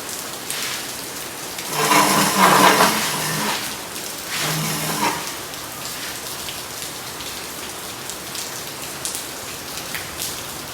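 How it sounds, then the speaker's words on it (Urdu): Steady rain falls and patters on surfaces. It swells into two heavier downpour bursts early on, then settles back to an even hiss, with no voices. "بارش ہو رہی ہے."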